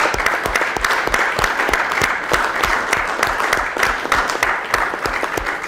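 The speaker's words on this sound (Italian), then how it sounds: "chiedere un applauso importantissimo per il nostro carissimo Stefano Andreani" An audience at a press conference applauds steadily, a dense, loud wash of many hands clapping at once from start to finish.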